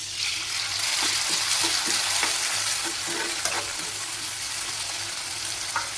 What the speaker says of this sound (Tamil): வெங்காயம் வந்து வதங்கிருச்சு. கூட தக்காளி சேர்த்துக்கலாம்.